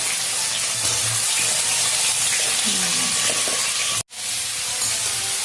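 Cauliflower stalks and potatoes are frying in a pan with onions, giving a steady, close, broadband sizzle that continues throughout, apart from one brief cut-out near the end.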